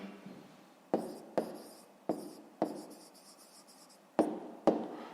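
Pen or pencil strokes on paper while a fifth-grade maths answer is written down by hand: a series of about seven sharp taps and scratches at irregular intervals, close and quiet, with no talk.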